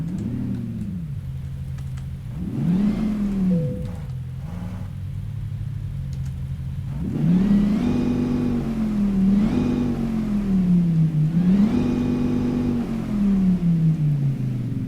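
A 2018 Dodge Challenger V8 starts in Euro Truck Simulator 2 and is revved repeatedly: a loud, close engine that swells and falls in several rising-and-falling revs over a low idle rumble, with no voices.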